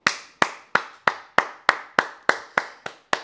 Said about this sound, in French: Ça mérite les applaudissements.